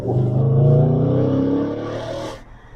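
An Audi S5 with a 4.2 V8 revs hard and loud, climbing in a rising howl for about two seconds before cutting off sharply and falling back to a low idle rumble.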